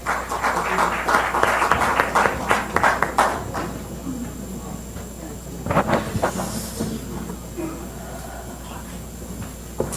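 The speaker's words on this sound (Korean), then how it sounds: "힘찬 박수 부탁드립니다" Brief burst of clapping from a crowd at a political invitational debate that quickly fades into a quieter room hum with faint murmuring.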